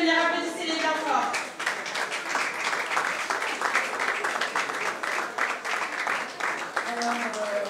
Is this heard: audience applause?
yes